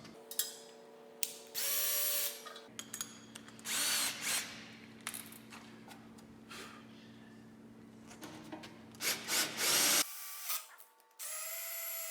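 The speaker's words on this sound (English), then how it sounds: "we will finish drilling our holes" A power drill bores holes in wood while a floating shelf is prepared for installation with Sheppard brackets, heard as repeated loud whirring bursts of varying length with brief pauses between them, close to the listener.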